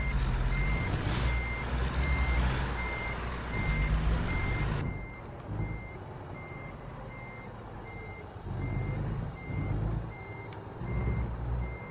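A truck in American Truck Simulator backs into a trailer, its reversing alarm beeping steadily at an even pace over a low engine rumble that drops partway through; close and continuous, no talk.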